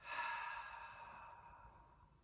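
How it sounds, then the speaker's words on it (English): A single long, breathy exhale through the mouth, a soft audible sigh that fades gradually, close and alone. "then out through your mouth with a ha sound"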